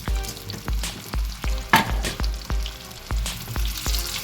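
Homemade chicken nuggets fry in hot oil with a steady crackling sizzle, punctuated by regular soft thumps every half second or so from stirring or scooping.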